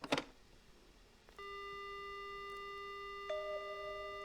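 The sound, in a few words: telephone dial tone in the video game Death Mark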